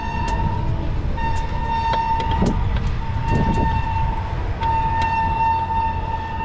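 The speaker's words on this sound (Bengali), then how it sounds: "আর ওই দূরে ট্রেন যাচ্ছে।" A train passes in the distance, heard from a roadside stop during a long motorcycle ride in West Bengal near Kalyani. It makes a steady, loud rumble with sustained horn-like tones running through it.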